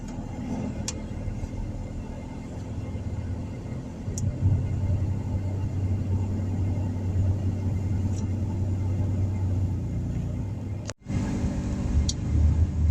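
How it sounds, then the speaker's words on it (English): A car drives through road traffic with a steady, loud engine and tire rumble that swells after a few seconds and holds, broken by a brief dropout near the end. "A lot of traffic today."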